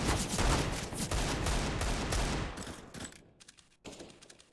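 Rapid bursts of gunfire from a competitive Counter-Strike match ring out loud and dense at first, then thin into scattered, sharper shots separated by short gaps of near silence.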